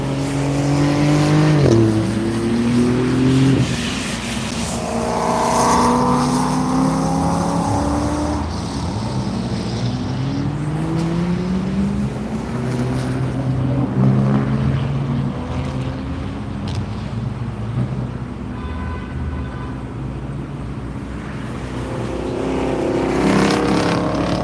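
Forsyth Racing Supra race car running on track at VIR during a morning session, its engine note rising and falling in pitch over about twenty-four seconds as it passes, mixed with wind and other engine noise.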